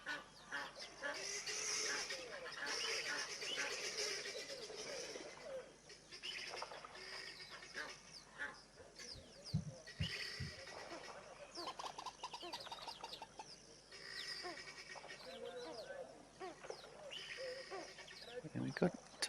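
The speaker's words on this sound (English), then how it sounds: "And of course the ever-present Egyptian geese." Several Egyptian geese call outdoors in a steady chorus of harsh honks and cackles, with birds chattering around them.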